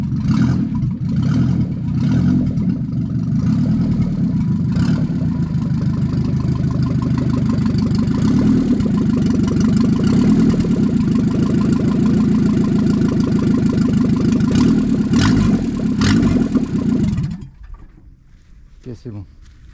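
A Renault 4L engine idles with its exhaust pipe removed, a loud, steady, raw rumble that holds for about seventeen seconds and then cuts off abruptly.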